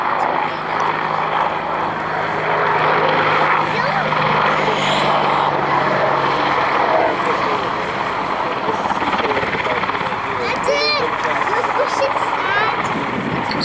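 An Army Air Corps Apache helicopter flies low during an airshow display at Cosford, its steady loud rotor and engine roar filling the scene, while an announcer talks over the public address.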